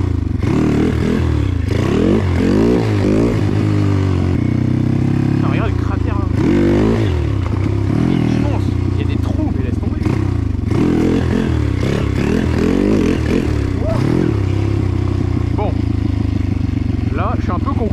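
A motorcycle engine runs loud and continuous while a rider pops a wheelie, its pitch swinging up and down in repeated revs, with a voice talking over it at times.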